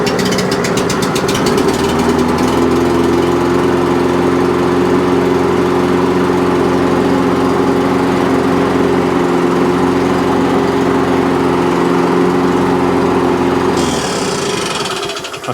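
A cheap supermarket lawnmower engine runs steadily on choke after a restart, a loud, constant small-engine drone with a buzzy harmonic tone that holds evenly before cutting off near the end.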